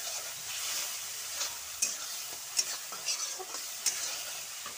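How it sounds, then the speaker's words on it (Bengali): Vegetables, including pointed gourd, fry in a pan with poppy-seed spice paste, making a quiet, steady sizzle broken by several sharp scrapes and clicks as a spoon stirs them. "মশলাটার সাথে ভেজে নিচ্ছি"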